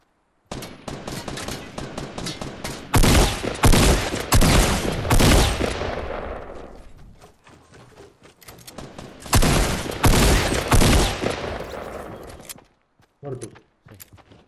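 Repeated gunfire bursts in a Fortnite battle royale match: long rattling automatic volleys around three to six seconds and again near ten to twelve, with quieter shots in between and a couple of short cracks near the end, loud and close.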